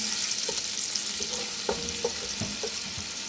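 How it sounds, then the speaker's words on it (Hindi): Onions sauté gently in oil in a pan for chicken macaroni, a soft, low steady sizzle with a few light clicks of stirring. "तो अब मैं इसमें प्याज ऐड कर दूँ। प्याज को थोड़ा सा सौते कर लेना, ज़्यादा डार्क भी नहीं करना।"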